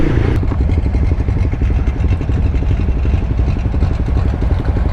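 Honda CBR300R engine idles steadily with a rapid, even low putter and mechanical clatter, loud and close throughout, with no talk over it.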